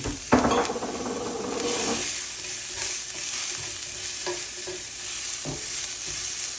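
Onions and potatoes fry in a skillet for corned beef hash, giving off a steady sizzle. A utensil scrapes and clinks against the pan early on, followed by lighter stirring taps over the continuous frying.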